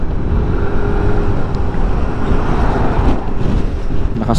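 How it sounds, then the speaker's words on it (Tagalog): Strong wind roars continuously against the microphone at Bambang, Nueva Vizcaya, a loud, low rumbling buffet with no break. "Lakas ng hangin."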